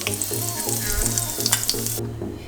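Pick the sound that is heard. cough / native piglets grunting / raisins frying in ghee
raisins frying in ghee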